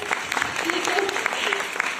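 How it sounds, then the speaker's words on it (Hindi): At a business seminar, the audience gives a short round of applause, a continuous rattle of clapping with a voice speaking over it. "एक बार जोरदार तालियां त्रिपत के लिए हो जाए"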